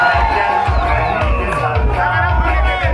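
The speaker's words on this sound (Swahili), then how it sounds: "Makofi mengi kwa wazee wa senta" A crowd at a celebration cheers and claps with loud, dense whoops and shouts, sustained and close for a few seconds.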